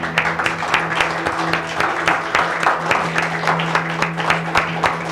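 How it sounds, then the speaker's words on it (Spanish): Church congregation giving a loud round of applause during a worship service, dense rhythmic clapping from many people up close, with a steady hum and scattered voices underneath. "Vamos a darle un aplauso al Señor."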